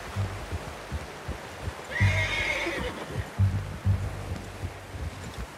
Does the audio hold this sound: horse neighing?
yes